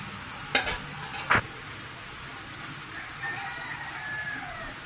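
Taro pieces cooking gently in masala in a pan give a low, quiet background sizzle. Two sharp metallic knocks from a stirring spoon come early, and a rooster crows faintly in the distance.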